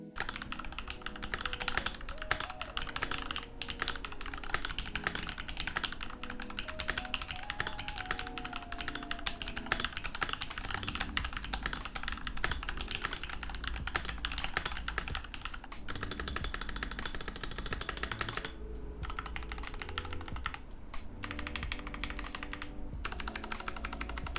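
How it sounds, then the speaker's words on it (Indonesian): Typing test on a Fantech Maxfit67 wireless keyboard, with a steady stream of close key clicks and taps running without pause for about twenty-four seconds, no voices. "Ini adalah typing test dari si Maxfit 67."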